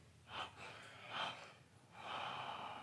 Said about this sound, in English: 3 exhales from that point.